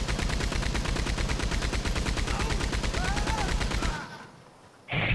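Rapid automatic gunfire in the Red Dead video game, a dense, steady burst of shots lasting about four seconds before cutting off, followed by a brief louder hiss.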